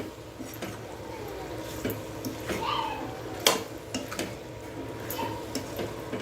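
Brinjal and potato are stirred through masala in a kadhai, giving soft, irregular scrapes and light taps of a spoon against the pan, faint and close.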